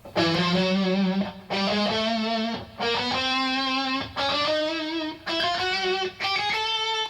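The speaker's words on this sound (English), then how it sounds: "The scale would be like this, starting on E." Distorted electric guitar runs a chromatic scale upward from E, three notes per string, in six clear phrases separated by brief pauses as the position shifts, loud and sustained with no talking.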